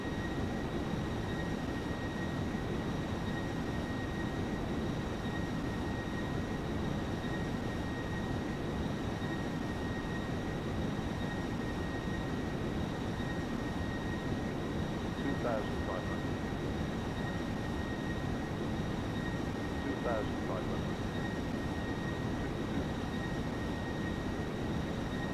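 Steady, even engine roar from an Airbus A330-300 airliner taxiing at Frankfurt airport in the FlightGear flight simulator, running continuously with a faint whine layered over a low rumble.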